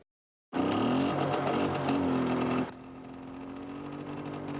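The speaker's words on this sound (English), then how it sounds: "Arriving for a hot date on a moped." A small moped engine runs steadily and close by, loud with a buzzing drone, then drops to a quieter, lower idle hum after a couple of seconds.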